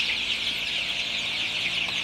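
Young Sonali super hybrid chicks on about day 25, reared in hot weather, giving a steady, dense, high-pitched cheeping chorus that continues without a break, moderately loud and with no voices.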